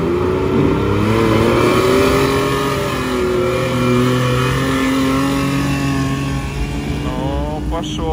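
A petrol Mitsubishi Pajero engine revs hard and loud in a diesel-versus-petrol comparison, its pitch climbing and shifting across several seconds, close and continuous.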